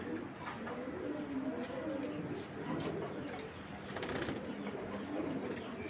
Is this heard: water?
no